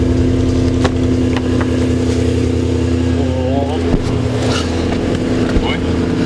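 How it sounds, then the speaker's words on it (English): A modified Ford Mustang engine drones loud and steady from inside the cabin during a ride, a constant low rumble with brief mechanical ticks and a short rising whine near the middle. "take me for a ride in his modified Mustang"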